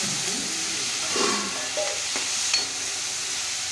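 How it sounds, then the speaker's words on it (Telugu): Dried red chillies, curry leaves and tomato fry in hot oil in a home kitchen, giving a continuous sizzling hiss with soft stirring scrapes and small bursts of louder crackle. "ఇప్పుడు ఇవన్నీ ఆయిల్ లో యాడ్ చేసుకుని దీనిలో ఎండుమిర్చి కూడా యాడ్ చేసుకోవాలి, ఇంకా కరివేపాకు, టొమాటో ఈ రెండు యాడ్ చేసి కొంచెం ఫ్రై అయిన తర్వాత"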